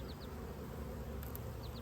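Honey bees hum inside an opened hive while brood frames are being moved, a constant near buzz with a couple of faint higher clicks, no one speaking.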